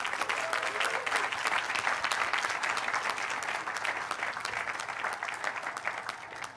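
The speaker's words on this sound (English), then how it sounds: "Please give a round of applause for Professor Pageant Henry." An audience at a 2023 sociology department ceremony gives a sustained, dense round of applause, loud and even for the whole stretch.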